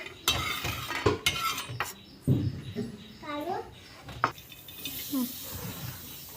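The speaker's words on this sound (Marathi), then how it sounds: "कांदा भाजून घेते" Onion roasts in a pan for a green mutton curry, with intermittent scraping stirs and soft sizzling. A voice speaks, while clinks of utensils punctuate the cooking.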